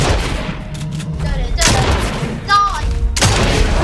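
Video game gunfire in Fortnite, several loud bursts of shots and booming hits spread across a few seconds, with voices talking over the action.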